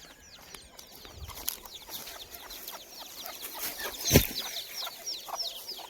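A mother hen with chicks clucking in a farmyard near a rubbish heap, repeated soft clucks in an uneven rhythm, fairly faint and close, with a sharper squawk partway through.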